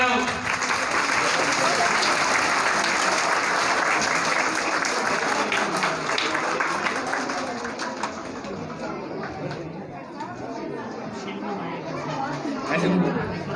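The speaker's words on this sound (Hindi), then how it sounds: "आप सबकी भरपूर तालियों में जिस बच्चे ने पेश किया है शाहजेब।" Sustained applause from a crowd at an Islamic school ceremony, heavy clapping at first that softens midway, with chatter and talk running underneath throughout.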